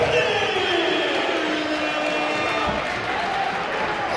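Basketball crowd cheering after a slam dunk in an arena, a loud, sustained roar of voices that swells at first and then holds steady.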